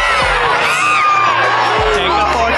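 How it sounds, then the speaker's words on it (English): Artificial crowd noise plays over the speakers at Angel Stadium: a loud, continuous wash of cheering, whooping and shouting voices with a couple of deep thumps. "They're pumping in crowd noise, folks."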